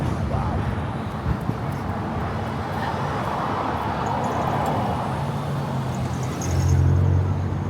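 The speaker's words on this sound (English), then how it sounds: "Cars really do not want to stop." Steady roar of car traffic along a Kuala Lumpur street, a broad continuous wash of passing vehicles with a heavier engine swelling near the end, heard close by without any voices.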